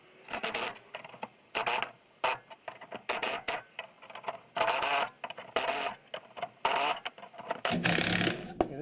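A spring compressor squeezes a new coil spring for fitting onto a new shock absorber during a suspension lift: loud, close mechanical whirring in short stop-start bursts, separated by brief pauses.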